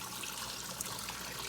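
Water runs steadily and close by as an oily film is rinsed off black aquarium sand, a brief hissing wash with no pauses.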